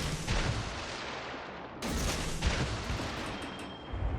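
Heavy warship gun salvo booming in World of Warships Legends naval combat, a loud thundering volley opening the clip followed by a second powerful blast with rumbling tails, no talk.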